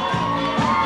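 A party crowd at a bar mitzvah cheers and whoops for Michael in a brief, loud burst of mixed adult and children's voices.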